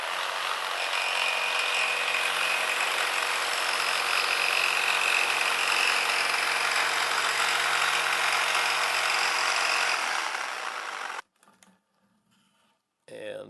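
A small scroll saw with a thin blade cuts through wood, buzzing steadily and loud for about ten seconds, then stops, leaving a few faint knocks.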